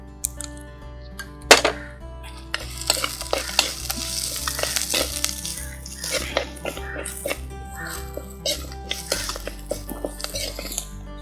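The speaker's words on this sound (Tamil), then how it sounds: "இப்போ நல்லா வெங்காயம் வதங்கிடுச்சு." Onions and green chilies with curry leaves frying and being stirred in a pan for Kerala-style fish curry, a steady sizzle with scraping and clinking of a spoon against the pan, close and fairly loud, no talk.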